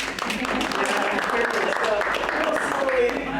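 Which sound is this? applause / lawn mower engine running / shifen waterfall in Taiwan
applause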